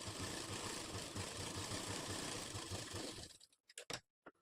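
A sewing machine double-stitches a katori blouse, running as a steady whirring hum with a fast rhythmic needle tick for about three seconds before stopping. A few sharp clicks and taps follow.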